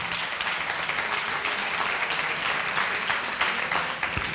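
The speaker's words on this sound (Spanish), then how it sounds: "Un aplauso para Susana." Steady applause from a seated audience at a panel discussion on gifted children, dense clapping sustained loudly for over four seconds with no speech on top.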